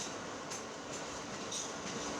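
Interior of an R143 New York City subway car on the M shuttle at Myrtle Avenue, a steady, moderately loud rumble and hiss of the train with faint high squeals at intervals and no talk.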